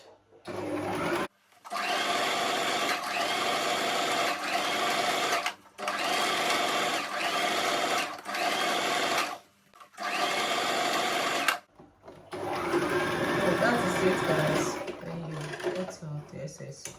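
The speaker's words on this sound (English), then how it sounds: "I'm going to take it to my sewing machine and sew all the 4 corners" Sewing machine stitching the corners of tulle mesh fabric for a turban, loud and close, in several sustained bursts broken by brief silences, with a longer final run.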